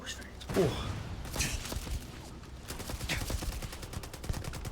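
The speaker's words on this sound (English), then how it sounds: "This is such a satisfying weapon. Even though it's suppressed." Suppressed Allied AA 15 rifle fired in Starfield, giving a string of sharp muffled shots in quick bursts, moderately loud, with a voice talking over some of them.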